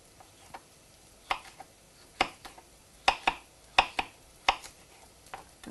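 A knife chops a chilli on a cutting board in a home kitchen, giving a quick, irregular run of about a dozen sharp, crisp taps, close and clear, with no talking.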